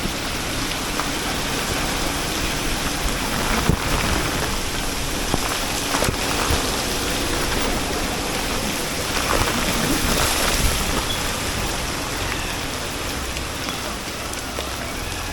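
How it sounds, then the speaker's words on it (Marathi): Dense, steady rain pours down nearby, a loud continuous hiss with occasional sharper drips and thuds, no voices standing out. "फक्त आताच एक पावसाची मोठी सर आली"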